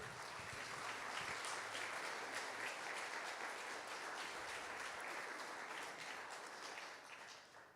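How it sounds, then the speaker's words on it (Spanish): A church congregation at a Sunday morning service applauds in a sustained, even round of clapping that fills the room, heard fairly faint and distant before tapering off at the end. "Dé un aplauso al Señor."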